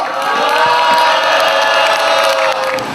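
At an outdoor political rally, a crowd welcomes a civic group's co-representative to the stage with loud cheering and shouting over clapping, sustained and close throughout.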